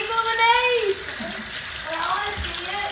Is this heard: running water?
yes